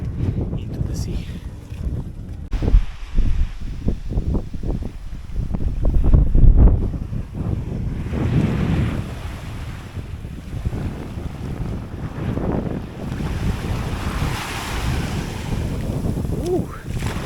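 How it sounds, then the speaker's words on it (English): Wind gusts and breaking waves along a beach in Oman, a steady roar of surf and buffeting wind on the microphone that swells louder in places. "Bit windy now, very cool."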